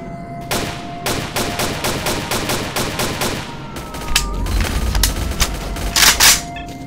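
Rapid bursts of gunfire in the shooter game STALKER: Clear Sky, with a string of sharp regular shots followed by heavier, denser volleys and booms, loud and close with no talking.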